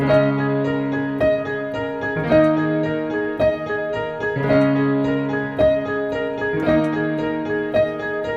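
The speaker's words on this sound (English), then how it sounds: "that kind of emulates the strum of the guitar" Rolled left-hand piano chords, emulating a guitar strum, ring out one after another at an unhurried, steady pace, each sounded and left to sustain, played alone and fairly close.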